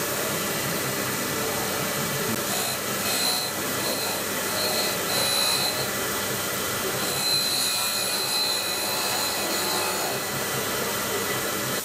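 Steady rasping friction as engine valves are ground against their seats during a BMP motor rebuild. It is a continuous, even scraping noise at close range, with faint squeaky tones rising above it at moments.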